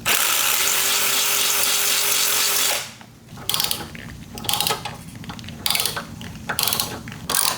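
A loud steady mechanical whir gives way to repeated ratcheting clicks and metal turning, close up, as a tap cuts threads in a bolt hole on a Mitsubishi Evo.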